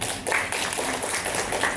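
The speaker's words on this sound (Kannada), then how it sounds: "ಜೋರ ಚಪ್ಪಾಳೆ" An audience at a book launch and discussion event claps loudly and continuously, a dense, close burst of applause filling the whole moment.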